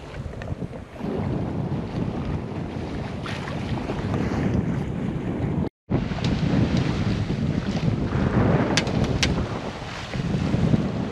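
Wind rushing over a sailboat heading out of St. George's Bay in Newfoundland near 15 knots: a constant loud roar of wind noise against the microphone with water washing beneath, broken by one brief dropout, and no talking.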